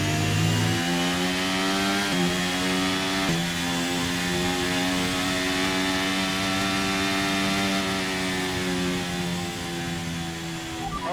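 An F1 car engine in the F1 23 racing game at Lusail holds a high, buzzing whine that steps up through several gear shifts, steady and loud from start to finish.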